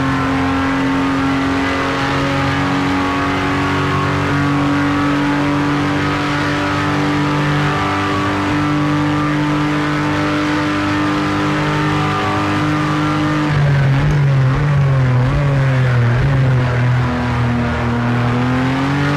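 A race car at full speed on the straight at Daytona during a shakedown before the 24-hour race. It makes a loud, sustained high engine whine that holds steady and then dips and wavers as the car backs off, all heard from the cockpit.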